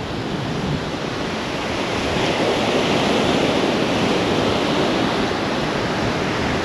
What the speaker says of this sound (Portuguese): hoje está ventando forte.